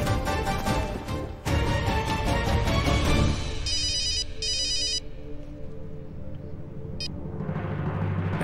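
A telephone ringtone chirps for an incoming call, starting loud with a dense ringing burst and then repeating as shorter, fainter electronic trills against a quieter background, with no talking.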